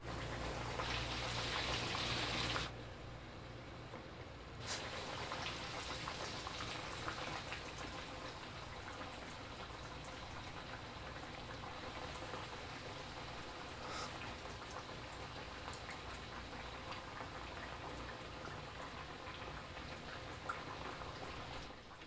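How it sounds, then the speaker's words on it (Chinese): Fish deep-frying a second time in hot oil, a continuous fizzing sizzle that drops in level after a brief pause, then carries on softly and evenly. "这叫复炸，逼出多余的油脂，外皮会更酥脆。"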